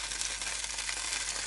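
Liver frying in hot vegetable oil in a pan gives a steady, close hiss with sharp spitting pops and crackles where water hits the fat. No one speaks.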